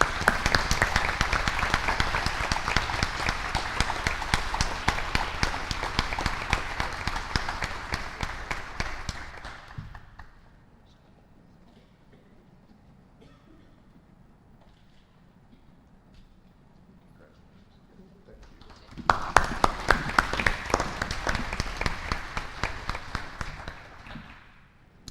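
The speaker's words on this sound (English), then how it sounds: "Please help me recognize and give a big round of applause for Melinda Hadley." Audience applause in a meeting hall, loud sustained clapping for about ten seconds, then a quiet gap, then a second burst of full applause that fades out.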